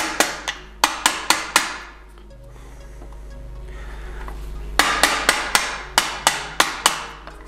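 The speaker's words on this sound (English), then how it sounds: "gently hammer it through." A plastic rod is tapped through a Polelink sleeve in sharp, close, evenly spaced knocks: a quick run of about five blows, a pause with low background hum, then another steady series of about eight taps.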